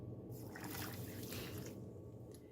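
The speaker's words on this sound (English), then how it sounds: "So now we're going to add 1 1/3 cup water" Water pours steadily into a bowl for a couple of seconds, a soft, close trickling splash at low volume.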